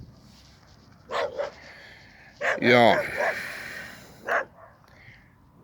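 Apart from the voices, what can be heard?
dog arriving at a small field studio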